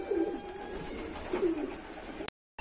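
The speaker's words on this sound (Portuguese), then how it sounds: "agora a gente estamos aqui no setor das pombas aqui" Pigeons cooing in a pigeon loft, two low soft coos heard close by over quiet background noise before a sharp click and a brief drop to silence.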